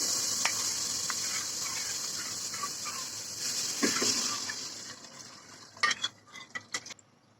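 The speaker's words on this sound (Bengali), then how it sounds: "এ পর্যায়ে দিয়ে দিচ্ছি গুলিয়ে রাখা প্যাকেটের স্যুপগুলা।" Mixed packet soup goes into fried ingredients in a pan and is stirred with a soft hiss and light scraping. A few brighter utensil clinks close out the sound.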